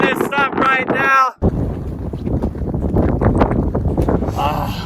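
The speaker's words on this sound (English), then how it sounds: "that wind ended up being just a little too much" Strong, cold wind gusting across the mic on a Colorado hike at about 7 degrees, loud roaring buffets filling most of the stretch, with a voice speaking briefly at the start.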